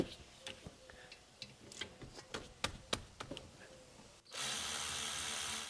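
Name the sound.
ratchet loosening 14 millimeter Subaru Forester caliper bolts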